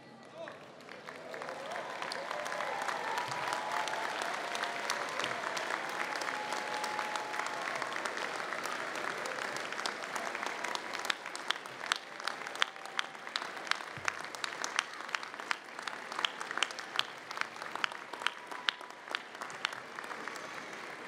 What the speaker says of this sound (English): turn around and applaud your loved ones and friends?